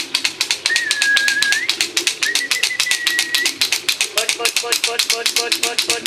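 Young racing pigeons coo and burble in a quick repeated rhythm, close and fairly loud, with a few higher whistling calls mixed in.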